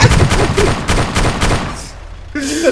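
Rapid bursts of gunfire in Arma 2 DayZ crackle loudly for about two seconds, stop briefly, then a synthetic game sound effect follows.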